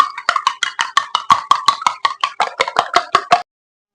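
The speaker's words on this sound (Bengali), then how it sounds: "এই যে আমি ডিমের মধ্যে একটু লবণ আর একটু হলুদ দিয়ে ভালো করে ফেটিয়ে নেব।" Four eggs with salt and turmeric are beaten in a glass: a quick, even run of about sixteen close, crisp strokes that stops abruptly.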